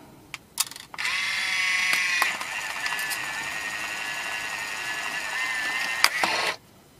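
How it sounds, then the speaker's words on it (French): A Fujifilm Instax Wide 300 instant camera fires with a sharp shutter click, then a steady whirring motor runs for about five seconds as the film ejects, ending with a click and silence. "il faut prendre une première photo"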